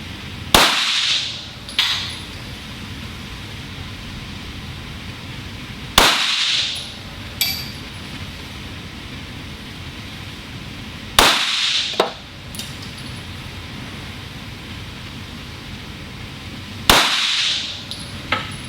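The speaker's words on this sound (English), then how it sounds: "All right, shooting at the lower right target." Four sharp Avidity Arms PD10 pistol shots are fired at a target from about 10 yards, spaced roughly five seconds apart. Each loud crack is followed by a short echo or clink.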